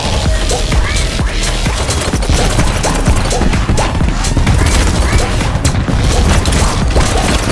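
Gunfire in the video game BattleBit Remastered, with dense, continuous volleys of loud shots and booms overlapping throughout with no break.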